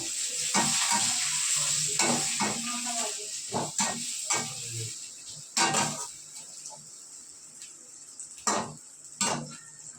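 Capsicum sizzling as it fries in a steel wok, with a steady hiss broken by repeated scraping and stirring clatters of a utensil against the pan.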